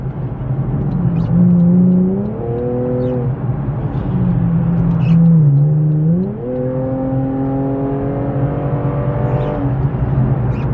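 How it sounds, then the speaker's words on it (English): A car engine revving through a series of downshifts, pitch climbing and dropping with each blip, loud and close with a steady engine drone underneath and no talk. "Those downshifts."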